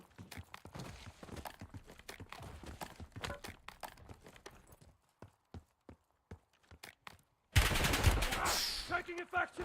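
Gunfire in the Warzone video game: a stream of sharp shots in quick bursts that thins to scattered single cracks, then a louder, denser barrage near the end.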